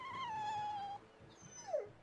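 A dog in the video game Tales of Berseria whimpers with a long, high, wavering whine, then pauses before a shorter, sliding whimper, fairly faint and with no talk over it.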